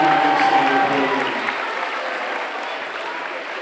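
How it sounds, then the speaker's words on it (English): An audience at a school anti-bullying presentation applauds for a staff member, a broad wash of clapping that starts full and gradually thins and fades. "Let's give Mr. Yarosh one more big round of applause"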